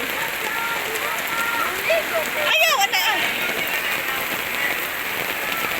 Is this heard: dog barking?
no